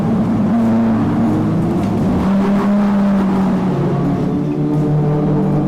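A Peugeot 208 Racing Cup race car engine drones loudly on the Nogaro circuit in the wet, its pitch climbing and dropping through gear changes in a continuous in-car roar.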